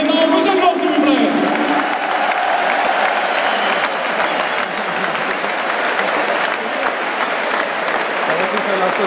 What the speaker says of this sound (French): Encore une fois, applaudissez Mangouzaglo, s'il vous plaît.